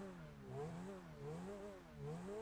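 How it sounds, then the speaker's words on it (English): A car engine in the video game GTA revs steadily in repeated rising and falling surges, a fairly quiet, continuous whine heard alone without any talk. "So the revving on this car is pretty interesting."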